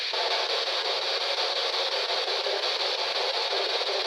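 A ghost-hunting device generates steady white noise in an old county hospital, a constant broadband hiss that holds at an even level throughout with no voices.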